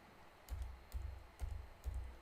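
Alt-GR and bracket keyboard shortcut keys are pressed in ON1 Photo RAW 2021, giving four muffled thumping keystrokes in a fairly even rhythm, faint and close, with no talk.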